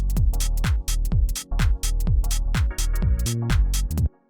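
A minimal house stab repeats in a bouncy rhythm with a swung delay echoing each hit over a steady thumping kick, clear and dry, stopping abruptly near the end.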